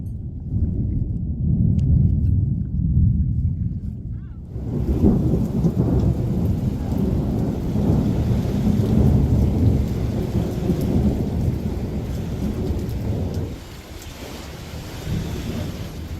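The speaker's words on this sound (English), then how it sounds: "it is a lightning storm, isn't it?" Thunderstorm at Lake Powell while camping: steady heavy rain with deep rolling thunder that swells and rumbles for long stretches, loud and continuous, with no talk.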